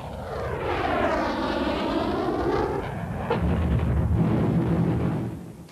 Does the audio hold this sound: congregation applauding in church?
no